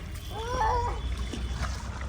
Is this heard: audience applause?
no